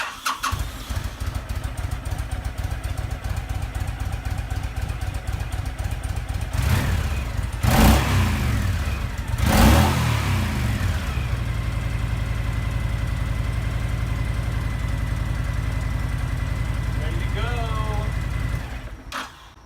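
A Honda VTX 1300 motorcycle engine cranks, catches and settles into a loud, close, lumpy idle, with two sharp revs in the middle before it runs on steadily and shuts off at the end.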